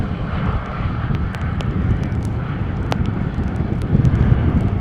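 Airliner landing in a strong crosswind at Amsterdam Schiphol Airport after Storm Ciarán, a steady loud roar of engine and wind rumble with gusty microphone buffeting and a few sharp clicks, swelling toward the end.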